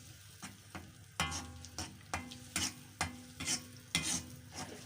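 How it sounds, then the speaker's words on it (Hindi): Radish greens bhujia stir-fried in a kadhai over high flame, with a spatula scraping and clanking against the pan in an irregular rhythm above a steady low sizzle. "थोड़ा स्टोव जो है हम फ्लेम जो है थोड़ा सा हाई कर लेंगे और इसको हल्का हल्का फ्राई करेंगे"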